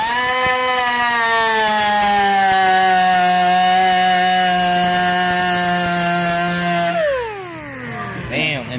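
A power tool grinds down a fiberglass hood on a Duramax truck around old screw holes, a loud steady high-pitched whine that holds for several seconds and then drops in pitch as the tool spins down.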